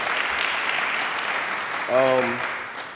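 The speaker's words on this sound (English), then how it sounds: "Give yourself a round of applause." Applause from an audience at an accelerator program graduation ceremony, moderate and continuous, with a brief voiced cheer or shout standing out near the end.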